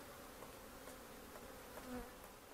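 Honeybees forage on blooming acacia in cold weather of about 11 degrees, a faint, steady buzzing of many insects with a few individual bees droning past more closely.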